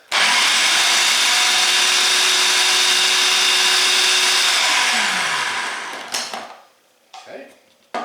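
An electric blender or food processor mincing oven-dried parsley runs loud and steady for about five seconds, then winds down with a falling whine, followed by a few clicks and knocks.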